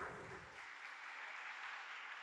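A church congregation at a novena mass gives a short burst of steady clapping, a dense even patter that carries through the whole moment without a break, with no voices heard over it.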